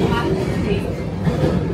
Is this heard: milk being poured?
no